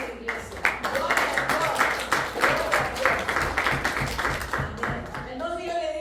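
Church congregation clapping steadily for several seconds, a dense crowd applause under a preacher's Spanish voice speaking over it.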